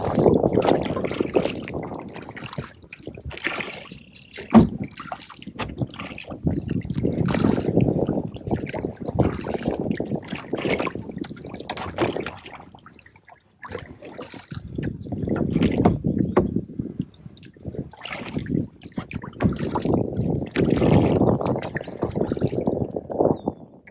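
Canoe paddle strokes on a creek: repeated watery swishes and dribbling splashes come in steady bursts with short pauses between strokes, close by and moderately loud.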